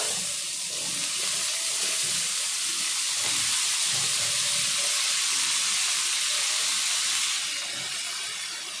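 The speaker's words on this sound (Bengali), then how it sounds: "এখন ওই তেলের মধ্যে আবার ভেজে নেব" Cauliflower florets frying in hot oil as part of a moong dal khichuri preparation, giving a steady, loud, close sizzle and hiss that runs unbroken throughout, with no talking.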